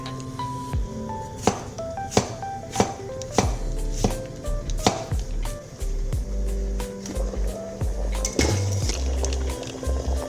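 Knife cutting beetroot on a board, shaved and chopped into pieces for steaming, giving a series of sharp, close chopping thuds at an irregular rhythm with a steady low background hum and no talking.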